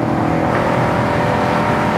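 A 1966 Pontiac GTO convertible with a Powerglide transmission accelerates, its exhaust a loud, continuous close-up roar that holds steady throughout with no talk over it.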